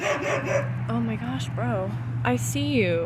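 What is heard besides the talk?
dogs barking at other dogs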